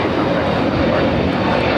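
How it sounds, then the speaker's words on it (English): A Hawaiian Airlines Airbus A321neo takes off from LAX, its engines giving a loud, steady roar for the whole short stretch with no voices. "This is Hawaiian Airlines Flight 61 taking off to Kailua, Kona on the A321 Neo."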